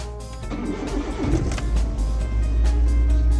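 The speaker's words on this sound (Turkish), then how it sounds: "Arabamızı çalıştırıyoruz." A Suzuki Carry's engine is started and settles into a steady, close, heavy low rumble that holds for a few seconds with no talking.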